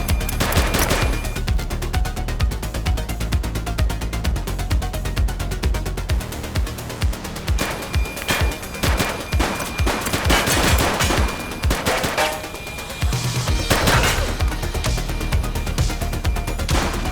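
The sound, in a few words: gunfire in the video game The Precinct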